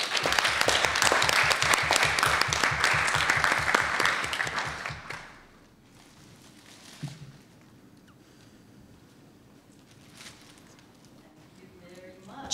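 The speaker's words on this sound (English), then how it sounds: "Let's please all have a big round of applause for Yuko being here with us tonight again" Applause at an evening symposium panel event: a loud, dense burst of audience clapping lasting about five seconds, then fading into quiet room noise with a few scattered sounds.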